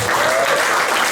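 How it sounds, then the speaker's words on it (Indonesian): Church congregation clapping during a worship service, a dense, steady burst of applause filling the space at close range with no pauses. "Mari tepuk tangan buat Raja."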